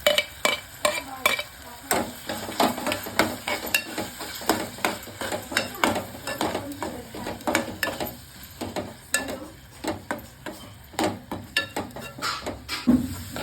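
Spoon stirring tomatoes and ground masala paste in a pan for prawn masala, a steady rhythm of close scraping strokes over a soft sizzle, with no talk.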